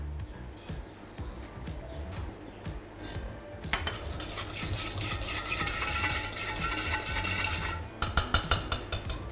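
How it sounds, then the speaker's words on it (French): Cervelat sausage and cheese salad with a thick dressing and chopped dill being mixed in a bowl, with clattering utensil scrapes and clinks building to a busy run of mixing, then a few sharp knocks at the end. "On va bien mélanger pour tout incorporer."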